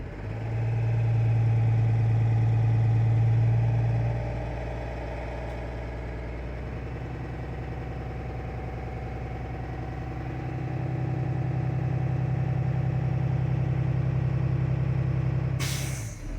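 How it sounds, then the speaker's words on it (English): A truck engine climbs to about 1200 RPM and holds there for several seconds during a parking brake check, then settles back to idle before revving again. The loud mechanical drone continues with no speech. "I'm going to rev up my vehicle till about 1200 RPMs, and I'm going to hold it for about 8 seconds."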